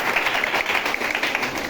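Students in a classroom clap for a group in a short, steady patter of applause without any talking.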